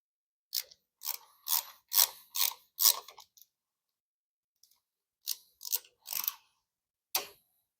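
T20 screws are driven into a 2024 Road Glide motorcycle's heated grip assembly in close, crisp bursts of ratcheting clicks. A quick run of clicks is followed by a pause, then a shorter second run.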